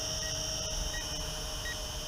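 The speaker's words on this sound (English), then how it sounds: "And it's beeping at me." Kolibri Hellfire drone sounding its low-voltage warning, faint short beeps repeating at intervals over a steady low hum and background noise.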